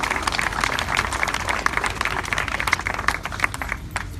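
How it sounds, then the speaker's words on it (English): Crowd applause for young park advocates at an outdoor park dedication ceremony, a steady, fairly loud wash of many hands clapping throughout with no talk over it. "So let's have a round of applause for the youth that advocated for"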